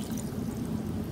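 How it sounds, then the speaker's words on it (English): Water pours steadily from a glass into a homemade fidget washing machine, making a continuous close splashing rush with no talking. "Now we're gonna add 3 glasses of water."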